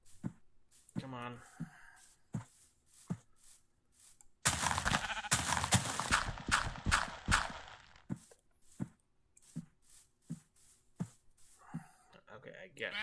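Sheep bleating in the Minecraft video game, short game bleats scattered between a player's talk, with a dense noisy passage in the middle.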